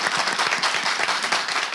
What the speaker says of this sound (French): Alors, applaudissez pour vous.